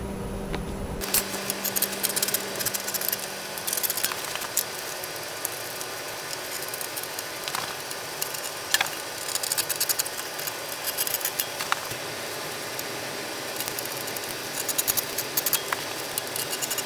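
A leather bracer pattern is being cut out, with scattered snips, scrapes and small taps from the cutting work spread through a steady low background hum, close and irregular, with no voices.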